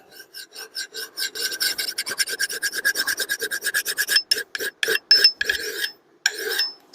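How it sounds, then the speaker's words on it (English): Hand file rasping along an axe edge to sharpen it, a steady rhythm of close, crisp strokes that quickens, then breaks into a few separate scrapes with short pauses, with no talking. "you've got some files and some sandpaper or some stones, you can still sharpen an axe"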